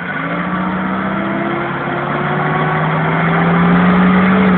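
A car reverses slowly under guidance, its engine droning steadily and close, rising slightly in level toward the end with a low hum and faint higher whine throughout.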